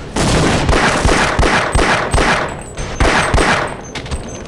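Sustained, loud gunfire in Half-Life, a close and steady barrage of rapid shots repeating rhythmically with little pause throughout.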